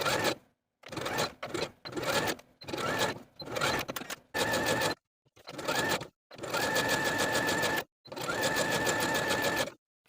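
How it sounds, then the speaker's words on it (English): Sewing machine stitching the sleeve and bottom hems of a turtleneck with a zigzag, twin-needle or cover stitch, running in about ten short bursts that lengthen into two sustained runs, close and loud with no talking. "using a zigzag stitch, a twin needle, or your cover stitch machine, sew your hems in place for the sleeves and the bottom of the garment"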